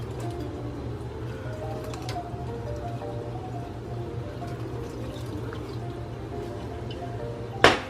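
Boiling water trickles and splashes steadily against a glass bottle over a low background hum, ending with a sharp, brief clink.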